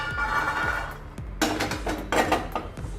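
Roasted peanuts tipped from a pan onto a plate for a ragi jaggery sweet, heard as a few dry clattering scrapes and rattling pours, fairly close, with no talking.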